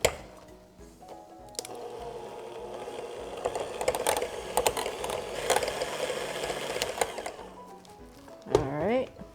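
Electric mixer whipping orange creamsicle cheesecake filling, a steady whirring hum with rattling and clattering of the beaters against the bowl, moderately loud throughout, with a brief thump near the end.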